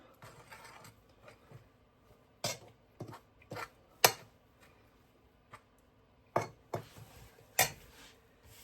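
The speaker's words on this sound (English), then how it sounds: "I'm going to just stir this all together because I want to get those spices mixed all through that flour" A small spoon stirs spices into flour in a bowl, giving scattered light clinks and taps against the dish, several sharp and close, with quiet gaps between them.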